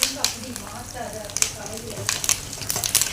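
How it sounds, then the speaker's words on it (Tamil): Curry leaves fry and sizzle in a pan while being stirred during preparation of a garlic-pepper kuzhambu, a steady crackling hiss with occasional scrapes and clinks of the spoon against the pan, close and moderately loud, with no talk. "கருவேப்பிலை போட்டுக்கோங்க, கிண்டிக்கோங்க. கொஞ்சம் பொன்னிறமாக வர்ற வரை கிண்டிட்டு"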